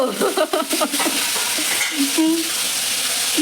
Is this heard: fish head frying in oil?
yes